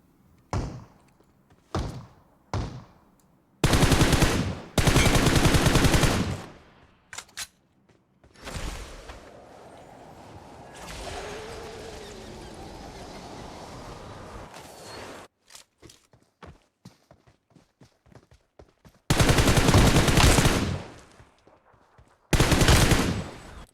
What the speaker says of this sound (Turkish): Ben silah sesini duydum.